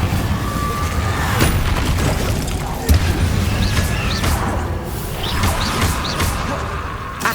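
Fiery spell effects in Hogwarts Legacy, with a dense roaring whoosh and booming crackle, a sharp burst near the middle and flickering magical sparkles over a constant loud rumble.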